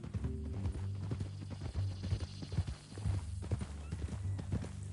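Horse hooves clip-clop at a steady walking rhythm in Red Dead Redemption 2, close and clear over a low continuous rumble, with a brief snort or whinny and no speech.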